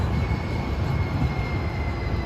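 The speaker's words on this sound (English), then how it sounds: "So see an inbound Muni train of Siemens cars stopping here at the ballpark en route to Caltrain, 4th and King." An inbound San Francisco Muni light-rail train of Siemens cars pulling into the ballpark stop, a loud low rumble of wheels and motors with a faint steady whine, no voices over it.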